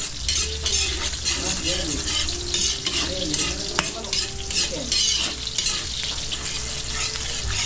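Garlic and onion sauté for pancit in a restaurant kitchen, a dense, continuous sizzle with rhythmic spatula scraping and metal clinks against the pan, close and loud, with faint background murmur.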